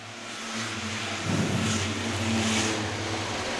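A field of race cars roars off at the start of the six-shooter main event at Star Speedway, a steady, loud engine drone swelling as they accelerate away together.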